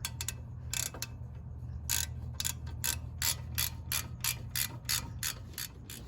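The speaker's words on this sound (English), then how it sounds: "grab your 17 mil ratchet, socket," A 17 mm ratchet and socket loosening brake caliper bolts on a Corolla XRS, giving quick bursts of sharp clicking in an irregular rhythm over a low steady hum, close and fairly quiet.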